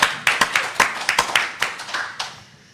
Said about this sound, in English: I want to see the audience with some thumbs up and some